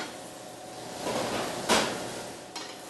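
An oven door bumps open or shut as a cooked New York strip steak comes out, one soft muffled clunk near the middle followed by a lighter knock, close by over low kitchen room noise.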